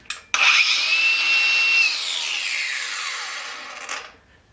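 A Harbor Freight Hercules cordless angle grinder spins up abruptly with a high whine that holds steady, then gradually winds down over several seconds before stopping, loud and close with no talking.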